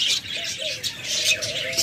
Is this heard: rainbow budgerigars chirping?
yes